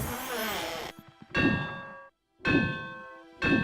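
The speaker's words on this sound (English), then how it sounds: "can I hit the bell?" A bell struck in the PS1 video game MediEvil 2 gives three bright metallic clangs, each ringing out and fading, separated by short gaps, loud and alone.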